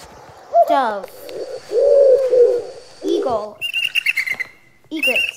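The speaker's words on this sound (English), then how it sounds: "Dove." A dove gives soft, low cooing notes up close, with a few higher chirps and fluttering sounds mixed in. The calls come in short phrases separated by brief pauses.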